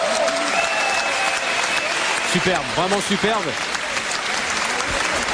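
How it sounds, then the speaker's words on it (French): A crowd applauds two Muay Thai boxers after their fight, a loud, dense, continuous clapping that fills the whole moment while an announcer speaks over it. "Ils méritent tous les deux encore une fois vos applaudissements."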